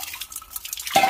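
Sour spinach leaves being washed under running water, a soft trickling and splashing that swells into a louder, steady gush of tap water near the end.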